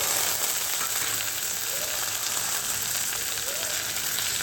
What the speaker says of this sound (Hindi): अब प्याज के गोल्डन ब्राउन होने तक इसे पकाएंगे।